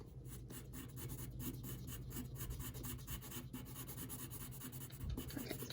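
Pencil hatching strokes on paper, a rapid, rhythmic series of short scratchy strokes repeating steadily throughout, quiet and very close, with no voice.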